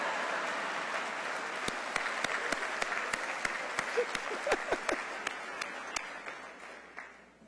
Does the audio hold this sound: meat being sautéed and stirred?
no